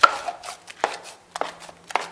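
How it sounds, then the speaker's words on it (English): Drywall joint compound is turned and mixed by hand in a pan with a knife, heard as a run of sharp, close scraping and slapping strokes at an uneven pace with short quiet gaps between them. "I'm just tossing and turning, mixing it by hand."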